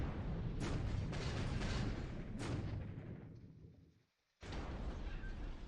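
Naval gunfire in a Pacific war strategy game, heard as heavy booming salvos over a dense rumbling roar, with a short silent gap before the roar resumes abruptly.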